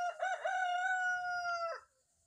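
A single rooster crows nearby: one loud, clear cock-a-doodle-doo rising, holding a long sustained note, then dropping off into quiet, with no talking.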